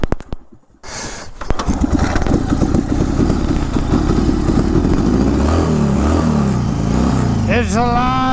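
A 1974 Harley-Davidson Sportster Ironhead XLCH cranks with a few clicks and sputters, then catches and settles into a loud, lumpy idle with clattering mechanical noise, rising into a couple of throttle blips near the end.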